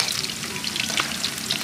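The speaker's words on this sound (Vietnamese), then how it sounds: "Bây giờ mình chiên đồ là có chảo chống dính rồi" Battered linh fish, a Mekong Delta flood-season specialty, fries in a non-stick pan with a steady, dense sizzle and crackle that stays close and even throughout, with no voices.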